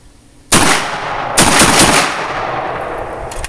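Two loud, close blasts from a Saiga 12 semi-automatic shotgun loaded with low brass shells, the second quickly followed by more rapid reports as the action cycles, each ringing out in an outdoor echo.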